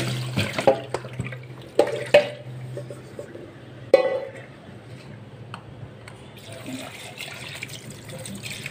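Soaked rice is washed and drained in water, with splashes, clinks and pouring sounds in short bursts, then a softer trickle of draining water, close and fairly quiet.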